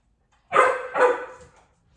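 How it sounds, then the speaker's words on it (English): A single dog demand barks at other dogs: two quick, loud barks about half a second apart, close by, then a short fading tail and silence. "He demand barks at the other dogs."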